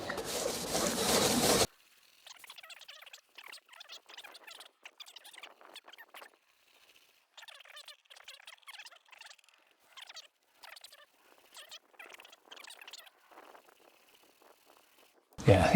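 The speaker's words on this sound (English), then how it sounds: "Right, let's give that a rub over." An abrasive pad rubbed by hand over a BMW E64 wing mirror during a respray, short bursts of dry scuffing strokes in an irregular rhythm, close and faint, with louder noise at the start and end.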